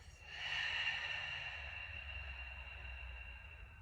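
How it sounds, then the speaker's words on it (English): A single slow exhale through the mouth during a yoga breathing exercise, a soft, breathy sigh that swells and then gradually fades over a few seconds, close and quiet. "Through the nose and then breathing out through the mouth."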